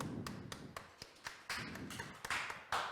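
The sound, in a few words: group clapping hands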